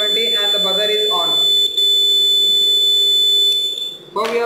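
A domestic household gas leakage detector sounds its buzzer alarm, a steady loud electronic tone that holds continuously and breaks off briefly near the end, with a person talking over the opening.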